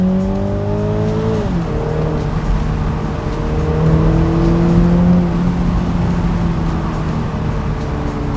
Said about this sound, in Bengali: স্পোর্ট প্লাসে যদি আমি দিই, এই যে স্পোর্ট প্লাস, এটা হচ্ছে এক্সট্রা ডাইনামিক সেটিং। এখানে আপনি এক্সস্টের বার্বল শুনতে পারবেন গিয়ার শিফটের সময়।